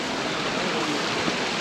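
Zenith Waterfalls near Pune in monsoon, heard as a loud, dense and continuous roar of falling water that holds steady throughout, broadband and without a break.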